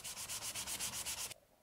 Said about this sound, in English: Some hand sanding to clean after the rupture.